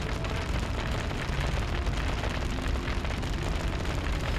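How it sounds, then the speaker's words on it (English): Fireball igniting grease in the Dragon Age Origins video game, a dense rumbling roar of flames and crackle that stays loud and continuous throughout, with no talk. "he's launched a fireball. That fireball has lit the grease on fire."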